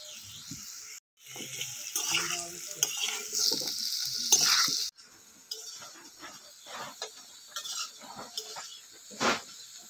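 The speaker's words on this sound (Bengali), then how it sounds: "পেঁপে আর আলুটা এদিকে ভাজা হচ্ছে" Papaya and potato pieces frying in a pan, a bright continuous sizzle with stirring and scraping of a utensil against the pan, then quieter clinks and handling sounds.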